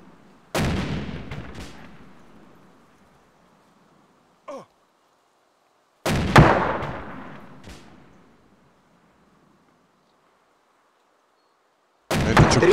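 Land mines explode in the military shooter Arma 2: two loud, sharp blasts that trail off in rumbling decay, a brief clunk between them, and a third blast starting at the end.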